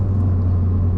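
A 2019 Chevrolet Corvette C7 1LT with its V8 and 8-speed automatic gives a deep, steady engine drone at speed in third gear, loud and constant with no talk.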